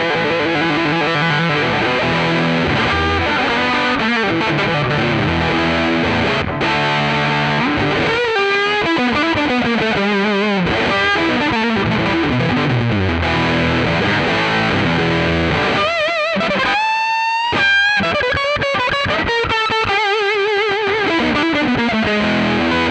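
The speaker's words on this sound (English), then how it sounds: "So I have to have a fuzz tone." An electric guitar played through a NUX MG-300 modeler plays heavily fuzzed, buzzing notes and chords, sustained and saturated, with a few bends and faster runs near the end.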